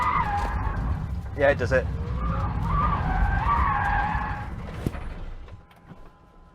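A Rimac Nevera's tyres squeal and skid through a drift, a loud wavering screech over engine and road roar, with a person speaking briefly partway through before the noise fades.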